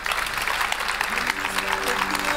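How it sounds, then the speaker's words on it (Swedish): Applause from a live audience at a stage show or interview, a dense steady patter of clapping with sustained tonal lines from music starting partway through. "en stor applåd för Pär Svärdson."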